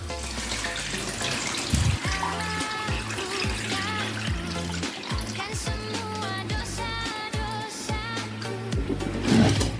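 Water pours off soaked soybeans, a continuous splashing trickle like a running tap in a sink, moderately loud and steady over about ten seconds, with a music track playing underneath.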